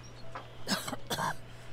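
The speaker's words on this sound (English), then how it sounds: "She bends over double in a violent coughing fit." A woman in the video game Divinity: Original Sin 2 coughs violently in two harsh, close bursts, loud and alone with no talking.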